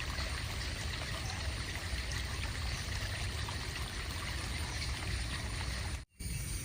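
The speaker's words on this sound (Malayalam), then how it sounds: "ഇതേ വെള്ളം ഒഴുകണ ശബ്ദം" Rainwater streams and pours steadily past during the monsoon month, a continuous close rushing wash of moderate level that briefly cuts out near the end.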